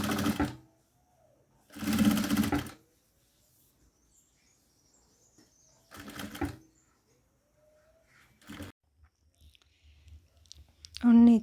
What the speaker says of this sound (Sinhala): මං පාපිසි දෙක මහලා ඉවරයි.